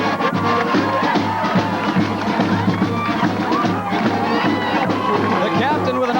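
A huge crowd roars continuously at a 1993 Maine hockey national championship celebration, a dense, loud wash of cheering and babble filling the whole stretch without pause.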